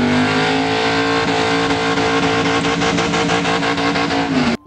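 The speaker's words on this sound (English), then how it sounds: "you could actually hear the vibrations of the drivetrain kind of coming through this intake" A V8 engine fitted with a Sniper LS intake revs loudly and steadily up close, with a rough droning hum and drivetrain vibration before it cuts off abruptly at the end.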